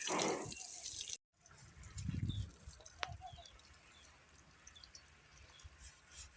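Water washes black chickpeas, first a short rush of splashing and pouring, then scattered soft drips and small trickles, quiet and close, with a faint bird call in the background and no talking.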